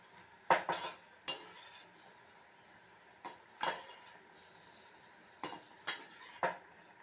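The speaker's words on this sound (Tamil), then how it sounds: "இப்போது இந்த வெண்டைக்காய் நம்ம வதக்கினதை இதோட சேர்த்துடணும்" Sautéed okra being stirred into tomato and onion in a pan, a series of sharp spoon-on-pan clinks and scrapes in irregular bursts over a quiet, faint background sizzle.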